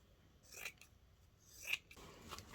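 Scissors make two crisp, close snips through fabric scraps for a rustic stitched vessel, each cut a short rasping slice, with quiet pauses between and no talking.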